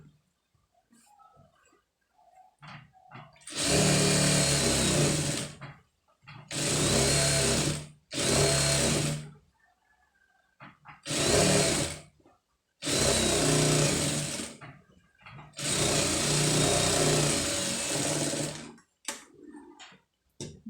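Close sewing machine stitching around an embroidered sleeve in several loud start-stop bursts of a second or two each, separated by quiet gaps with faint handling clicks, without any speech.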